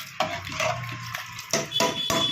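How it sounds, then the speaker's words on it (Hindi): Water splashes as it is poured into a pressure cooker holding dal and rice, with a steady wash of sound broken by a few sharp metallic clinks of the pot. "आप देख सकते हो मैंने पानी डाल दिया है"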